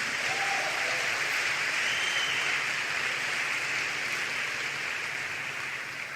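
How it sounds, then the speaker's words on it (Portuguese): Church congregation applauding at a Pentecostal service, a dense, steady wash of clapping that stays loud and even throughout before easing slightly at the end. "Vamos dar uma salva de palmas para Jesus pela vida do Juninho."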